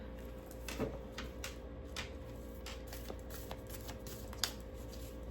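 Tarot cards shuffled and pulled for a pile reading beside an orange candle and jade crystal: soft, quiet riffling with a few crisp snaps and flicks spread across a hushed room.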